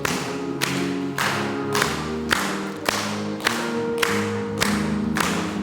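A church congregation at a Korean Sunday service claps in steady rhythm along to a hymn, about ten sharp even claps with an organ-like musical tone sustained underneath.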